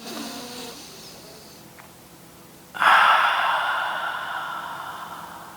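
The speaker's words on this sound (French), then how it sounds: "On essaye des respirations un peu plus grandes." Deep yoga breathing: a quiet, soft inhale is followed midway by a loud, close, long exhale that slowly fades, with no talking.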